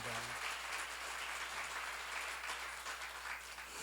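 A seminar audience at a church Bible lecture applauds steadily throughout, a dense wash of clapping at an even level with no single claps standing out.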